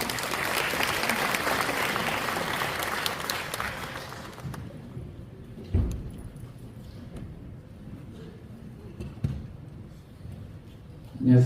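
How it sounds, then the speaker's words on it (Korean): An audience at a residents' briefing on a Yangji Village redevelopment project applauds to welcome a presenter, loud steady clapping that stops abruptly partway through, followed by quieter room sounds with a few thumps and small noises. "큰 박수로 맞이해 주시기 바랍니다"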